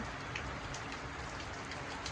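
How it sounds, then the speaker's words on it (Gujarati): Heavy rain pours steadily, a dense, even hiss of drops striking surfaces nearby with no pauses. "આવું વાતાવરણ આખું થઈ ગયું અને આવો વરસાદ વરે"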